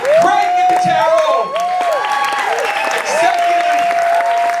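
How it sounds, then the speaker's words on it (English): A crowd at a Halloween Horror Nights Q&A breaks into loud, sustained applause and cheering, with whoops and shouting voices mixed into the clapping throughout. "another huge round of applause for Greg Nicotero"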